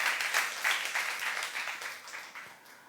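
A church congregation at a youth service applauds together, a dense burst of clapping that swells in waves and gradually thins and fades over a few seconds, with no voice over it.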